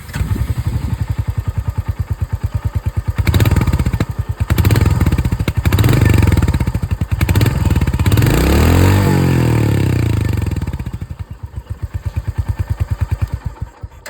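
A Royal Enfield Hunter 350 motorcycle engine idles with a steady, thumping beat, revs up a few times, then settles back to idle, loud and close.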